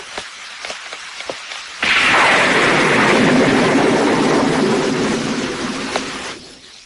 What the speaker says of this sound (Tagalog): Naku, umuulan!